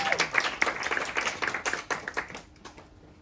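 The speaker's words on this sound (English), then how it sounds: "Big round of applause to our last team" An audience gives a round of applause for the last team at a web development demo day in Stockholm, brisk clapping that thins out and fades near the end.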